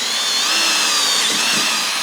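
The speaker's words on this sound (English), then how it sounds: "I've successfully drilled that hole" A power drill bores a hole through a block of wood, a steady high-pitched whine running continuously at close range with no talk.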